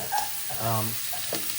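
Bacon sizzles softly in a pan, a brief low crackle with a faint stirring scrape and a little background noise.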